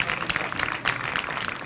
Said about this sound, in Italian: un bel applauso per la signora delle Olimpiadi